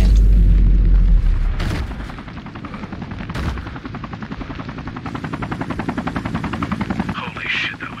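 Gunfire and explosions in the video game Sniper Ghost Warrior 3: a heavy low boom at the start, followed by a few sharp shots over a steady, thrumming rotor-like engine drone, with a voice over it.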